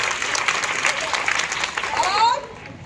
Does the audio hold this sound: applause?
yes